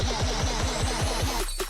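Synthesizer in Reason running an initialized preset: a close, loud, rapid run of about seven repeating downward-pitched blips that ends abruptly with a short click.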